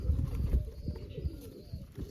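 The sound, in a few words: pigeons cooing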